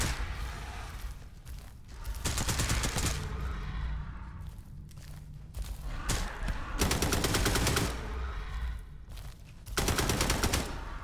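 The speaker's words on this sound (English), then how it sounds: "The PPSH I really feel should be shooting faster than everything else" PPSh submachine gun firing in the Shadow Project video game: three rapid bursts of automatic fire with mechanical clatter between them, loud and close, with no talk.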